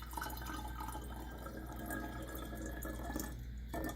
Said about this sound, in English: pour 1 cup of hydrogen peroxide